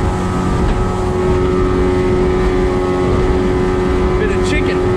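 An Evinrude E-TEC outboard motor on a boat out on the water, one suffering from water in the fuel and limp mode, drones loudly and steadily throughout with a constant tonal hum, with voices mixed in beneath it.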